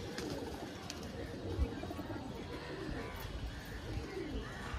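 Phulshila and Kalshila pigeons, one female carrying eggs, coo softly in a home loft, a continuous low murmur of overlapping coos with an occasional brief chirp, fairly faint and steady throughout.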